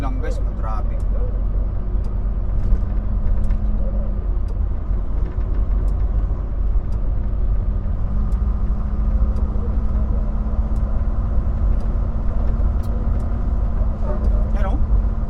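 A truck's engine hums steadily in slow road traffic with occasional brake hiss and clicks, while a person talks over the drone.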